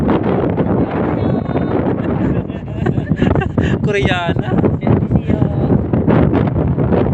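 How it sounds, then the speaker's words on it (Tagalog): Strong wind roars and buffets the microphone continuously while people talk over the gusty rumble. "Dito na kami kahit malakas yung hangin."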